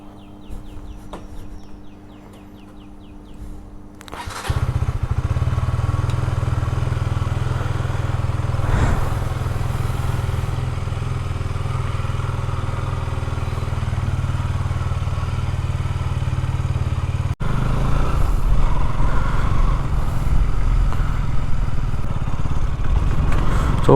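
A motorcycle setting off on a ride to Penukonda fort, a low idle that jumps to a steady, loud engine drone after a few seconds, with faint rooster and bird calls in the background.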